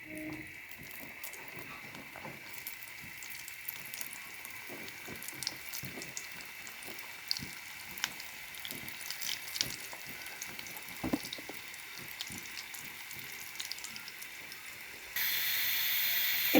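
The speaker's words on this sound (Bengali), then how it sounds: "এভাবে সিঙ্গারাগুলি আমি লাল লাল করে ভেজে নিচ্ছি, দেখতে পাচ্ছেন ভাজা হচ্ছে" Beef and potato samosas made with wheat flour dough deep-frying in soybean oil give a steady hiss dotted with small crackles and pops, which grows louder near the end.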